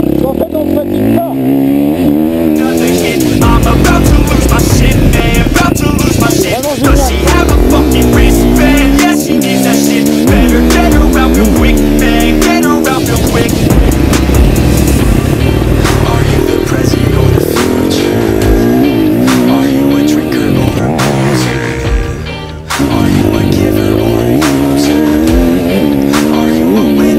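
A motorcycle being ridden roars loudly and almost continuously, its engine revving up and down through repeated rising and falling sweeps, with a brief dip near the end before the engine picks up again; voices talk over it.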